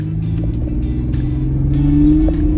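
A 1999 Plymouth Grand Voyager minivan with new KYB shocks accelerating down the road, heard from inside as a steady low engine drone rising slightly in pitch, loud and continuous with no talk.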